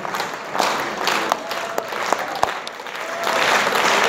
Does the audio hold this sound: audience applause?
yes